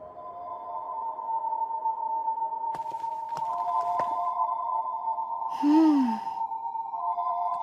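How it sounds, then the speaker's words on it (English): A magic crystal in an anime hums with a steady, sustained tone as it resonates with other crystals nearby, holding throughout with a few faint clicks and a brief swelling swoop near the end. "The sound is the crystal resonating with the others of its kind nearby."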